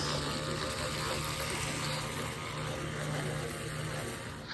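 Water pump in a DIY campervan water tank system, pushing pressurised water to the shower, gives a steady electric hum over a continuous rushing water hiss that stays even and close the whole time.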